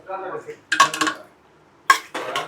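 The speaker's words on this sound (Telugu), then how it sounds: "ఇప్పుడు దీన్ని ఒకసారి కింద మీద కలుపుకొని మళ్ళీ ఒకసారి మూత పెట్టుకొని మగ్గించుకోవాలి" A metal spoon scrapes and clanks against a cooking pot of cabbage and chana dal curry, then a lid is set on with a sharp clatter, two short bursts of metallic clinking separated by a quiet pause.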